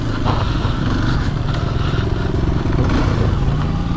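A Kawasaki motorcycle engine revs on a dirt trail in Solano, Nueva Vizcaya, loud and close, a steady throaty drone with rattling clatter running throughout.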